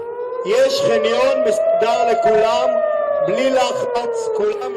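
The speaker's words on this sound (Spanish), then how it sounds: "El ruido de las sirenas obligó a suspender el acto" Air raid sirens wail during a demonstration in wartime, a loud sustained rising-and-falling tone holding throughout with voices and crowd noise mixed underneath.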